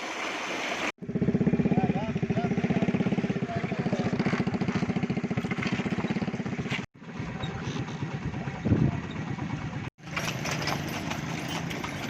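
A motorcycle ridden through a Punjab village in Pakistan, its engine throbbing steadily and close up, with brief cuts breaking the sound and someone talking over it in places.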